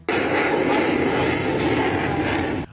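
Rafale fighter jets roar overhead during an air force rehearsal at Hindon airbase, a loud, steady, broadband rumble that holds for a few seconds before fading abruptly.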